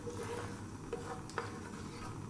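Dried chilli and cumin seeds sizzling in hot oil over high heat, a steady soft frying hiss with a couple of faint pops and light clinks.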